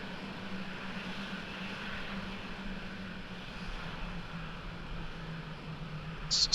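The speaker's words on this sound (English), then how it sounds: "Okay, let's go for the takeoff." A jet fighter in the flight simulator game Falcon 4 Allied Force spools up for takeoff, a steady, even engine roar and rushing hiss that holds at moderate level, with a brief sharp electronic blip right at the end.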